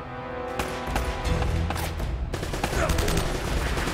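Rapid bursts of M4 rifle fire in the video game Uncharted Remastered, loud and close, the sharp cracks coming in quick successive volleys over a busy battle background.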